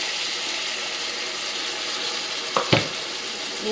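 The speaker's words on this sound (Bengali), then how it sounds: "চলো ঝিঙেটা ভালো করে ভাজা করে ঝিঙেগুলো ভাজা হয়ে গেছে" Ridge gourd frying in hot oil with a paste of green chili, garlic and coriander gives a steady close sizzle, with a couple of brief clatters near the end and no talk.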